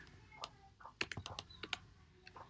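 Keyboard shortcuts typed on a computer keyboard, a handful of separate clicks and key presses, light and close, scattered over quiet room tone.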